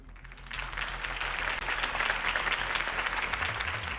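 A crowd at Harvey Dent's campaign rally in Batman: The Telltale Series bursts into loud, sustained applause over a low musical tone, swelling after a brief quieter opening.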